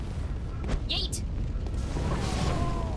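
Enemy gunshots from the Bloodborne video game, a few sharp loud reports and impacts over a dense, rumbling game soundscape lasting a few seconds.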